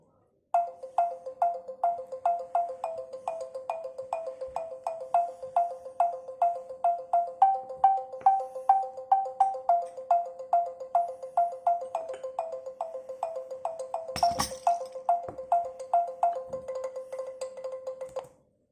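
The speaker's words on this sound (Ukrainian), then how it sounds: "А тепер давайте послухаємо, який голос у тата ксилофона." A long run of bright, evenly spaced mallet notes on a deep-toned xylophone, struck steadily with a brief louder clatter near the end.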